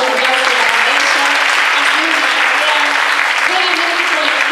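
Loud, dense audience applause fills a hall at a talk about Dora Barrancos's feminist trajectory, sustained and even throughout, with a few voices underneath.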